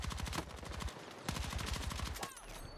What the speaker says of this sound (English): if you guys played this game, let me know if you're shooting someone and it just doesn't register the shots